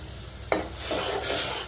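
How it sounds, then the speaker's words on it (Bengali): Garam masala with bay leaf, cinnamon and cardamom stir-fried with eggs for an egg bhuna, a spatula scraping the pan in one sharp stroke followed by steady sizzling and rasping, close and continuous, with no voices. "তেজপাতা, দারচিনি, এলাচ দিয়ে ভালো মতো কষিয়ে নিচ্ছি"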